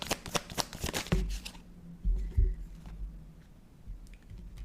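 Tarot cards shuffled and handled during a psychic reading: a quick run of crisp, close riffling flutters in the first second and a half, then quieter soft handling and light taps.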